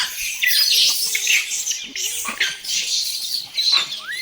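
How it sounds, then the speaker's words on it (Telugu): Monkeys caught in a net shriek and squeal in loud, rapid bursts, with high chattering calls rising and falling nearby and no voices over them. "ఇక్కడ మీదికి వస్తాయి చూడండి కోతులు."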